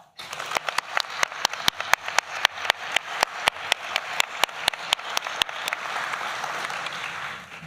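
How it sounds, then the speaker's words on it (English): A crowd at a nursing pinning ceremony gives a round of applause, with sharp, regular loud claps standing out over a dense bed of clapping that thins and softens near the end. "Let's give them a round of applause."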